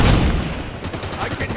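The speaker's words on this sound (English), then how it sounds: "Engaging! Enemy firing from the light post." Enemy soldier gunfire in the video game Halo 5 opens with a loud burst of shots, then fades into lighter scattered firing and game noise.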